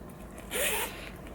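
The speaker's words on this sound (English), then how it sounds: "I got the navy blue tote, and it zips up" A zipper closes on a navy blue DAAME tote bag in one smooth, close pull lasting under half a second, clear against a quiet background with no talking.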